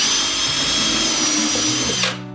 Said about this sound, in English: We're just going to drill a hole right here.